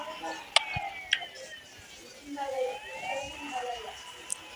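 Police car siren in a video game, a wailing electronic tone sweeping up and down at moderate distance, joined by a couple of sharp ticks and mixed with faint game noise.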